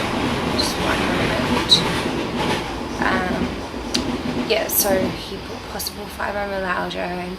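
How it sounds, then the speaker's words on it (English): A train passes in the background as a steady low rumble with faint rail squeal, running continuously beneath a person talking close to the microphone. "Sorry, that's just a train in the background."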